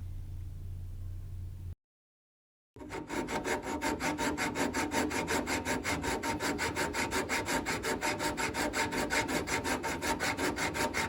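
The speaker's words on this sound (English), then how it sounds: "I'm using a sharpening stone to fix this" Sharpening stone rubbed back and forth across a warped carburetor base, a steady rhythmic rasping scrape with regular strokes, close and continuous after a short silent gap.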